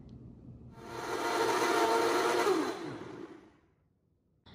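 A kitchen blender whirs loudly as it blends watermelon, lime, mint leaves and a cup of water into juice, spinning up, holding a steady roar for a couple of seconds, then winding down to silence.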